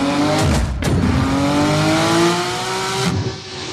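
A Porsche engine revs loudly and close, its rising tone climbing steadily over a few seconds with sharp tire or mechanical bursts near the start, then the note drops away toward the end.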